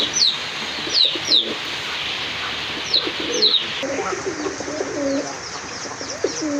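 Pigeons coo in an enclosure with low repeated calls, while sharp chirps from other birds sound in the first few seconds, all fairly close and with no voices.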